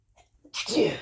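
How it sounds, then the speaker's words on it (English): A single sharp sneeze bursts out close by after a couple of soft breaths. "I'm going to sneeze"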